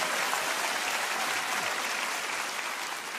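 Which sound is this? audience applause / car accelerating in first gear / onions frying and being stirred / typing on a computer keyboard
audience applause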